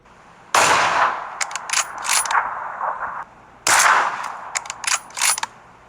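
Two bursts of sharp, loud sniper rifle gunshots in the game PUBG Mobile, with metallic mechanical clacks and ringing tails, close and punchy, separated by a brief pause.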